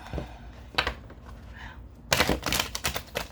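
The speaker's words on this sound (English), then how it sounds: "One more shuffle." Crisp riffling bursts of tarot cards being shuffled, a short flutter, a pause, then a longer rapid shuffle up close.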